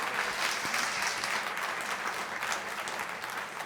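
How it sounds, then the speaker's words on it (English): An audience at a spring luncheon applauds with steady, moderately distant clapping that holds without pause and fades slightly toward the end. "let's give her a round of applause"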